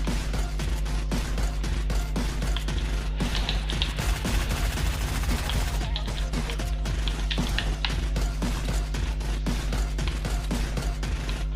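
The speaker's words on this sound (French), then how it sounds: "Je tire au bon moment, sinon je vais faire sniper par l'autre mec." Dense, continuous gunfire from a first-person shooter video game, rapid overlapping machine-gun bursts and shots sustained loudly throughout with no clear speech.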